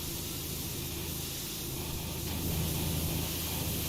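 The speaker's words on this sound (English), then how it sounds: "If I can spray it, I've sprayed it." Steady broadband hiss of a pressure washer spraying in PowerWash Simulator while cleaning a Ferris wheel, continuous and fairly even throughout, with no voices over it.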